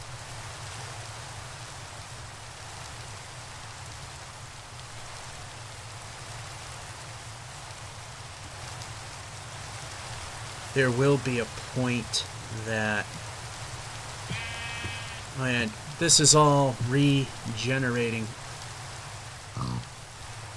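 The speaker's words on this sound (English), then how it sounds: "Stinking rain ruined everything." Rain falls steadily in Minecraft, a soft continuous hiss throughout with someone talking over it in the second half.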